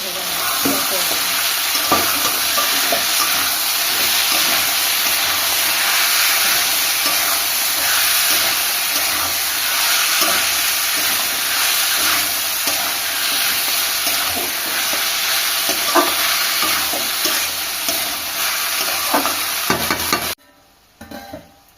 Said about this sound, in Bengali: স্বাদ অনুযায়ী লবণ দিয়ে দেবো দিয়ে ভালো করে আলুটাকে লাল লাল করে